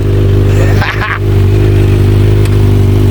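A motorcycle engine idles loudly up close with a steady rumble, then a brief rev surge and clatter as the bike sets off, its drone continuing to the end.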